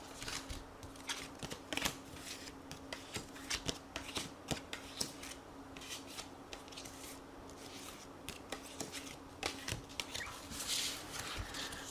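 Tarot cards are shuffled for a reading in soft, crisp riffling bursts that repeat steadily throughout, faint and close, with no talk.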